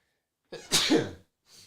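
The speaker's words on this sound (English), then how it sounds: "hold on, I gotta sneeze." A single sharp sneeze, close and fairly quiet, with a small breath just after it.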